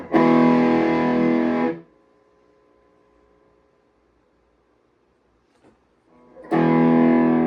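An electric guitar plays through a homemade distortion pedal set to half gain: a loud distorted strum rings out, decays into near silence, then a second crunchy strum comes in.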